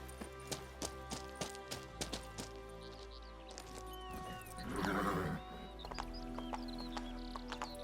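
A horse in The Witcher 3 whinnies loudly mid-clip while its hooves clip-clop in a steady rhythm throughout, over a faint game ambience, with no speech.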